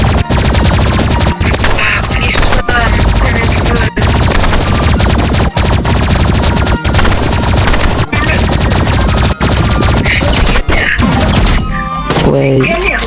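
Rapid, loud gunfire from the video game Rivals, a dense continuous stream of shots with brief gaps every second or so and a burst of different effects at the end, with players talking underneath.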